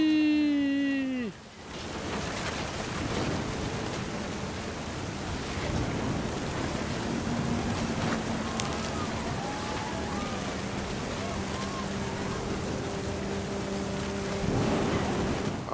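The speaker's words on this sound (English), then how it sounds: "The thunder sounded much too close and full of angry power" Steady rain pours in a video game scene, What Remains of Edith Finch, during a thunderstorm, a dense even hiss lasting throughout after a brief tonal sound at the start, with no distinct thunderclap standing out.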